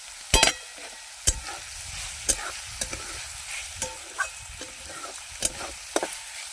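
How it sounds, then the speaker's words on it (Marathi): Onion and curry leaves fry in hot oil over a wood-fired chulha for a ridge gourd dish: a steady, close sizzle broken by sharp, irregular clacks of stirring, with no talking. "कांदा छान गोल्डन ब्राऊन होईपर्यंत तळून घ्यायचा आहे."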